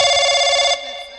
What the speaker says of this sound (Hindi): फोन उठा इंस्पेक्टर, मैं कहता हूँ फोन उठा।